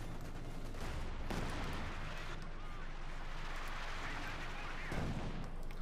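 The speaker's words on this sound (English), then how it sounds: "Heavy mortar, they're firing away" Heavy mortar firing in the World War II strategy game Company of Heroes 2, with repeated dull booms through a constant dense wash of battle noise while a commentator talks over it.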